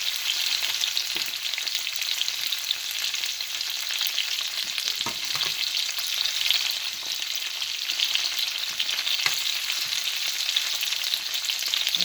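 Potatoes fry in a hot frying pan with a steady, bright crackling sizzle that holds evenly the whole time, with a few soft clinks of a utensil and no talking.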